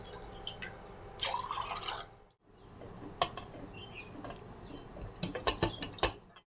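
Water mixed with milk and turmeric is poured over a small Krishna idol to bathe it, making scattered close drips and light splashes, a brief hush, then a quicker cluster of patters and trickles.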